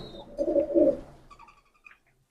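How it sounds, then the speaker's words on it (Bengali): A female pigeon, an imported fancy breed, gives a soft, close coo in a short low burst, followed by a few faint chirps and quiet. "এটা ডাবওয়ালা কবুতর আমরা দেখছি একটা মাদি কবুতর"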